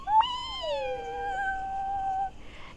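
A voice imitates a cat's meow, one drawn-out mewing call that rises then slides down and trails off, clear and alone over quiet background.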